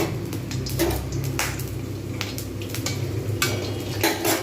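Whole cumin and garam masala tempering in hot oil in a pan, with a steady low sizzle under repeated clinks and scrapes of a spoon stirring against the pot, close and moderately loud, no talking.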